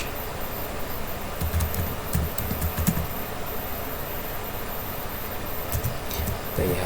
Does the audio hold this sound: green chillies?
no